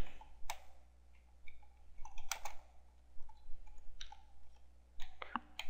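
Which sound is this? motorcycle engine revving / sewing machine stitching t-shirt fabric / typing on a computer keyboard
typing on a computer keyboard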